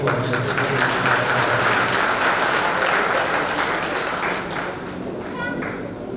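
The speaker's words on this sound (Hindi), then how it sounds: "शास्त्री जी अनय के लिए जरा फिर से ताली बजा देंगे तो अच्छा रहेगा।" Audience at a formal Hindi gathering applauding in a dense, sustained round of clapping that fills the room and then gradually thins out, with voices faintly mixed in.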